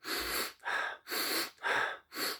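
Rhythmic breathing exercise done to boost energy and clear the sinuses: five close, forceful breaths in a steady, unbroken cycle, each lasting about half a second, with no talking.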